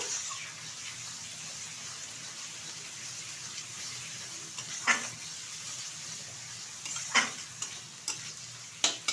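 Turmeric, ginger and garlic paste sautéing in a pan for a lentil dish, a soft continuous sizzle with a few sharp scraping stirs near the end, close and fairly quiet, no voices.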